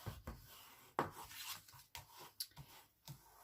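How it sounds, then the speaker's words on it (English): Folded cardstock burnished along its crease, heard as quiet rubbing strokes and soft scrapes in short irregular passes, close and faint. "I'm just going to fold that in half and then burnish"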